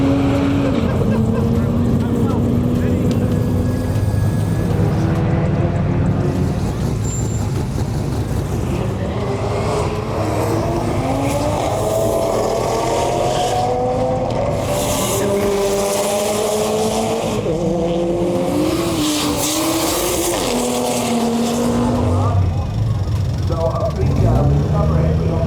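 An all-wheel-drive Barra-powered Ford Falcon roll racing on a track roars loudly alongside another car as revs rise and fall through gear changes, with brief tire squeal and people talking over the engines throughout.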